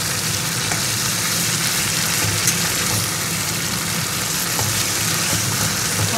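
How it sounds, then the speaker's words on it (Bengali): Koi fish sizzling in a pan of frying spice masala, a dense continuous crackle with faint stirring scrapes and no voices. "মশলা কষানোর সময় আমি মাছগুলোকেও দিয়ে দেবো। মশলা কষতে কষতে মাছটা একটু মশলার সঙ্গে ভাজা হয়ে যাবে,"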